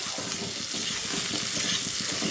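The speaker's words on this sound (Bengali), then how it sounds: "টমেটোগুলি আমি একটু ভেজে একটু নরম করে নেব" Tomatoes frying and being stirred in a pan, giving a steady hiss of sizzling with soft scraping from the stirring. It is close and continuous, with no voices.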